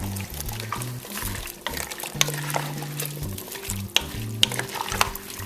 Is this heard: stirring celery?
yes